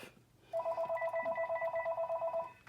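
A landline telephone ringing indoors, a steady electronic warble repeating in rapid pulses for about two seconds, fairly close and clear with no talk over it.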